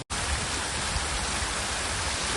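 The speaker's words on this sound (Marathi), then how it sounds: "घेतला तरी पाऊस जोरजोरात आला." Heavy rain pours down outdoors, a dense, even roar of falling water, loud and close, with no voices.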